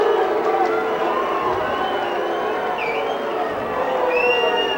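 A boxing arena crowd at the Terry Ray versus Roosevelt Williams fight reacts to the judges' decision with a steady, loud roar, scattered whistles rising above the din.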